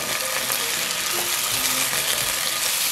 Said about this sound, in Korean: 약불에서 대파가 흐늘흐늘 기운이 없어질 때까지 볶아주세요. 토마토를 넣어 함께 볶으세요.